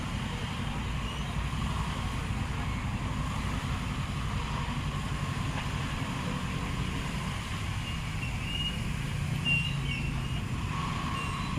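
Heavy bumper-to-bumper traffic on EDSA near Ortigas Center, Manila, forms a steady, dense roar of idling and crawling vehicles, with a faint reversing beep at times, constant and unbroken throughout.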